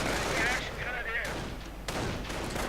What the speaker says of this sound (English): And riflemen are engaging these Volksgrenadiers.